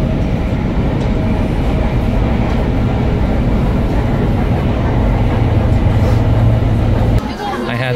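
A Seoul-area subway train runs with a loud steady rumble and rattle throughout, heard from inside the car, with speech mixed in before the noise drops near the end.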